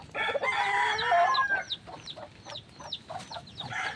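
A hen with chicks clucks and calls close by, drawn-out vocalizations followed by a series of short, sharp clucks and peeps.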